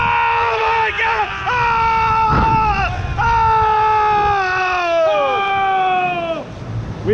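Riders on a screaming log flume ride at Yokohama Cosmoworld in Japan let out several loud, close, sustained screams and wails that rise and fall in pitch, one after another across the whole stretch.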